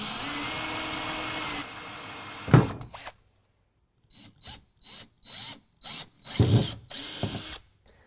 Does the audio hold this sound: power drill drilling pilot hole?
yes